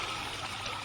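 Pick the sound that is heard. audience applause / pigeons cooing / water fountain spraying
water fountain spraying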